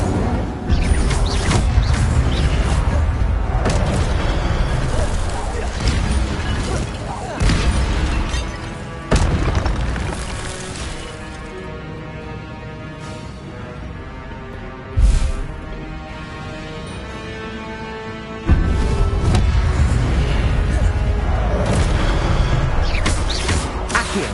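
Spell effects in the video game Hogwarts Legacy fill the mix continuously: dense whooshing bursts, booming impacts and crackling blasts over a thick, loud game soundscape with abrupt shifts in texture and a few sharp hits.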